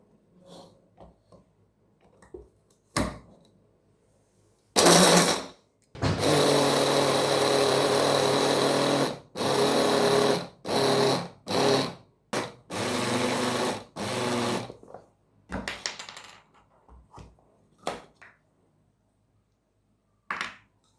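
A kitchen grinder whirs as it grinds walnuts in a loud motor whine, first in one long run and then in a series of short pulsed bursts separated by pauses.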